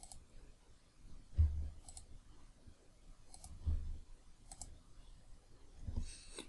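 Computer mouse clicks, a handful of sharp, separate taps spaced a second or so apart over quiet, faint low background noise.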